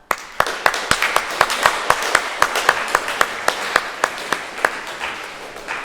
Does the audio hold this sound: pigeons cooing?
no